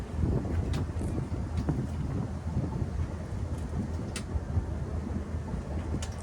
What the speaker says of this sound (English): that wind's coming out